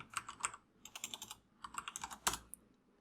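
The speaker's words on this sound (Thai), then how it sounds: "จากนั้นก็พิมพ์ว่าอ่าพิมพ์คำว่าตีมเนาะ" Quick keystrokes clatter on a computer keyboard as a short word is typed, a close, crisp run of taps in two or three bursts with brief pauses and no talking.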